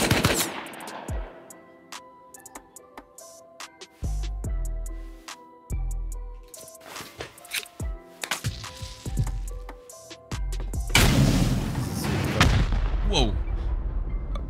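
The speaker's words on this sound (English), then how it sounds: "That's a turret that's shooting, isn't it?" A turret in the video game Rust fires bursts of rapid, loud gunfire with echoing booms between volleys, and heavy sustained shooting toward the end, while voices talk over the action.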